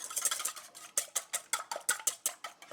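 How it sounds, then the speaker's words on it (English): Eggs are whisked in a bowl, a quick rhythmic series of sharp metallic clicks and taps, close and fairly loud, about four strokes per second. "we're going to give those a little whisk"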